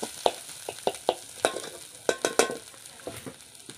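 Masala for a village-style chicken soup roasts in a pan, with a soft sizzle under a series of sharp scrapes and taps from a spatula stirring at an uneven pace.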